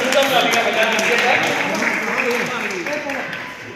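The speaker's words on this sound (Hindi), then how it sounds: "मंच से निवेदन करूंगा, तालियां बजा दीजिएगा।" An audience at a Republic Day poetry gathering at Gandhi Bhawan, Hardoi, applauds in sustained clapping, while voices talk and call out over the applause throughout.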